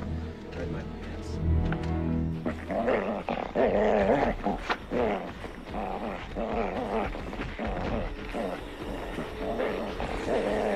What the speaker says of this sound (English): There's something wrong with Panic's dog